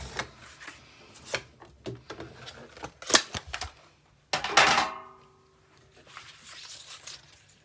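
A paper trimmer cuts a photo mat with a couple of sharp sliding swipes and clicks between softer handling rustles, close by and alone.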